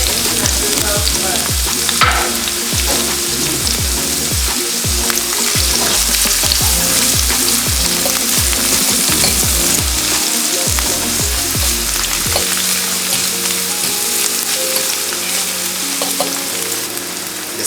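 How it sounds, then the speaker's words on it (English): Seasoning fries in hot oil for ackee and saltfish, with a loud, steady sizzle and bursts of stirring and scraping. "frying up our little seasoning."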